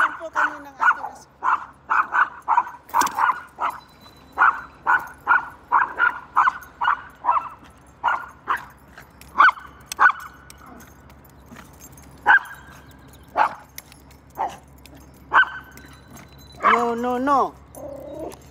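A dog gives a long series of sharp, evenly spaced barks, loud and close, with a brief whimpering yelp near the end. The barking carries on outdoors during a morning exercise walk.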